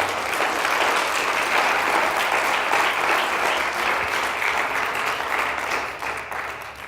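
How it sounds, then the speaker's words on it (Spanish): A church congregation claps for the Lord during a sermon. The applause is loud, dense and sustained, then tapers off slightly at the end. "dele palmas al Señor, amén"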